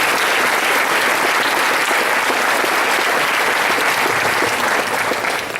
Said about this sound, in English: So please give a round of applause for all of those people.